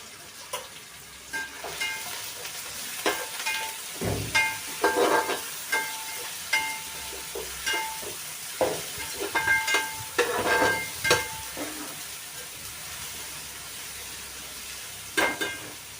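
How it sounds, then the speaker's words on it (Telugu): Ginger garlic paste fries in a pan for chicken pulao, giving a steady low sizzle broken by scattered scraping stirs and light metallic clinks of a spoon against the pan. "ఇదిగోండి అల్లం వెల్లుల్లి పేస్ట్ 2 స్పూన్లు వేసుకుంటున్నా."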